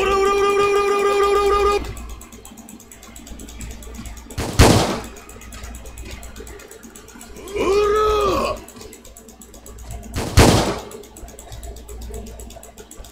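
Gunfire from a weapon in the Roblox game Stand Upright, heard as two sharp, loud bursts a few seconds apart, with tonal game effects and a chime-like sound between them.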